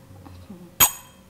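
A pair of Thai hand cymbals gives one short, muted, closed stroke, a brief dry clash that dies away quickly, after low background murmuring.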